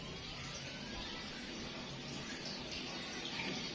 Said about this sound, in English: and it's draining the first water